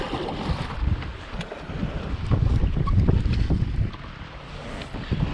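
Strong wind roars across a lake around a fishing boat, a steady loud rush of broadband noise buffeting the microphone that swells slightly midway, with no voices.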